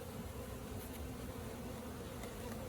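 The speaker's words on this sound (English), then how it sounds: "That's what we call busy bees." Honey bees buzz steadily during installation of a new hive, a soft continuous drone close to the listener with no talking.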